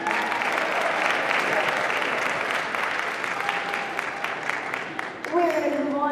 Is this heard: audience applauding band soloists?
yes